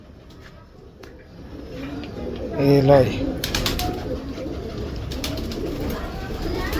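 A Mamdeen pigeon in a box coos once in a brief, rising-and-falling burst partway through, close and fairly loud, while someone talks over steady background noise.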